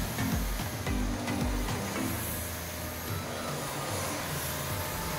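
A vacuum cleaner runs steadily over freshly installed carpet in the loft of a barndominium, making a loud, continuous whooshing drone with a few low bumps near the start.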